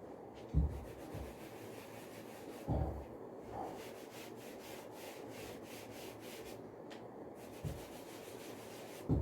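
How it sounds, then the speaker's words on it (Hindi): Board eraser rubbing off chalk-written math working on a classroom board, a steady low scrubbing broken by a few sharper bumps and strokes, close and moderately loud with no talking. "मैं इतना इसको मेन स्टेटमेंट रब कर देता हूँ"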